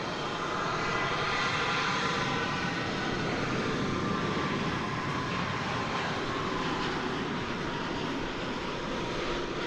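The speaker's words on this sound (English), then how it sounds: "In the meanwhile, we've got American Flight 996. This is a Dreamliner." Boeing 787 Dreamliner airliner on an American Airlines flight from Buenos Aires touching down at Dallas/Fort Worth airport, a steady, loud broadband jet engine roar that holds without a break from start to finish.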